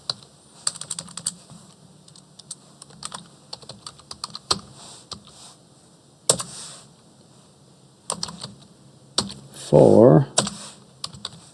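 Fingers tap a computer keyboard in short irregular runs of light clicks, typing out a word for a laser engraving project, with a louder mechanical whir near the end and a brief spoken word.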